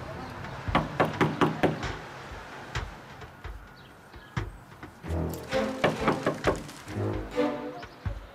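Knocking on a house door, a series of sharp knocks in short bursts, near and fairly loud, with a voice speaking between them.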